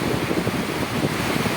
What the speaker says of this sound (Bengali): দেখো কি জোরে জোরে বৃষ্টি হচ্ছে হাওয়াও সঙ্গে হাওয়াও